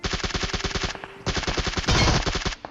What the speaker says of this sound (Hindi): इसको मैंने जैसे निपटाया तो मेरे बिल्कुल लेफ्ट साइड से फायर होता है